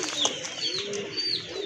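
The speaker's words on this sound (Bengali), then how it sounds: "এই যে দেখেন নর কবুতর এটা, আর পেছনেরটা মাদি কবুতর" A male and female pigeon pair coo together at close range, with soft repeated throaty calls and a few higher chirps over steady background hiss.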